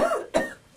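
A person coughs into the elbow in two quick, close bursts, the second sharper, within under a second.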